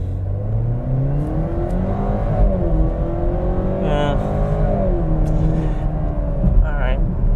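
A Chevrolet Camaro 1LT with a four-cylinder engine launches hard and accelerates, engine note climbing through rising revs with brief dips at gear shifts, loud and close inside the car.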